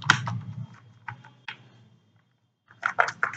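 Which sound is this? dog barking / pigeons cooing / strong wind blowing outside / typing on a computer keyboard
typing on a computer keyboard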